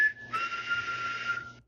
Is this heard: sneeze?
no